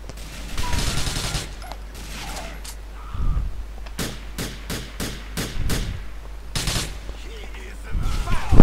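Sniper rifle gunfire in GTA IV, a series of sharp, loud shots in quick succession with scattered bangs before, over quiet game ambience.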